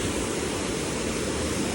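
Fast-flowing river water at Haridwar roars steadily and loudly up close, a dense unbroken rush with no voices over it.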